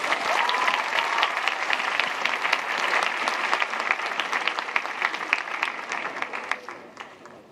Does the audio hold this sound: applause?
yes